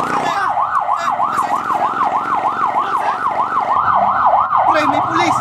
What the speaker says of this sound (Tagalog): Tumawag ka ng ambulansya